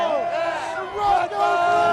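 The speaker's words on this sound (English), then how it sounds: "this crowd's going to be yelling RedBud as loud as they can" A large motocross crowd at the RedBud round of the 2006 AMA outdoor series yells and chants together in a loud, sustained roar of many voices, with a brief dip midway.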